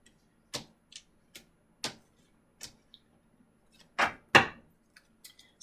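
A deck of tarot cards is cut and shuffled by hand, giving about a dozen crisp, separate card snaps and taps at an uneven pace, close and clear in a quiet room.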